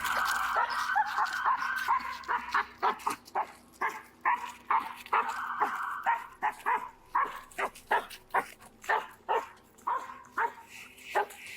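A police dog barks at a police car, heard through a played video: steady, repeated barks close to the microphone, coming faster toward the end, with a whine between bursts.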